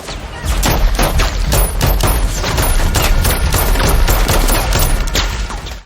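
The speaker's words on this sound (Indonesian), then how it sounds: "Kinney hanya menggunakan pistol untuk melawan mereka" A pistol fires again and again in an outdoor film shootout, with a dense, loud volley of overlapping shots and booms continuing steadily for several seconds, no voices.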